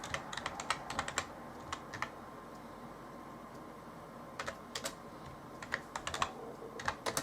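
Fingers type on a dirty computer keyboard in quick, irregular bursts of soft clicks, fairly faint and close, with a pause in the middle before typing resumes.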